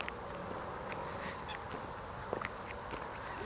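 A duck at an outdoor lodge pond gives a few faint, scattered quacks against steady background ambience of wind and distant birds.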